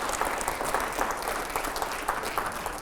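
A studio audience applauds during a televised debate, dense continuous clapping from many hands that stays fairly even throughout, with a faint voice underneath.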